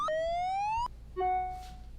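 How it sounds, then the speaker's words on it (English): An alarm siren from an industrial plant a few blocks away, a loud electronic tone that rises, cuts off, then returns at a lower pitch and fades, heard alone without talk. "Maybe it's the alarm from the plant a few blocks away"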